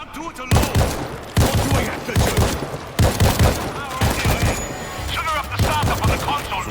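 Unsuppressed gunfire in the zombie shooter World War Z Aftermath, loud rapid bursts of shots repeating across the whole stretch over a dense din of game noise.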